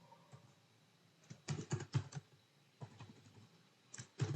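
Typing on a computer keyboard while entering Python code in a Jupyter Notebook, with short bursts of soft keystrokes separated by pauses, quiet and close.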